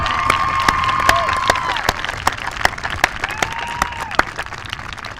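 Graduation ceremony audience applauding at a 2024 high school commencement in Wickenburg, a steady wash of clapping with sharp individual claps and a few cheers, continuous and fairly loud throughout.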